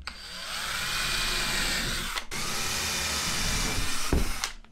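Power drill boring a few holes near the edge of a wooden float frame for a painting, a loud steady whining drone with a brief stop midway and a second sustained run ending in a short burst.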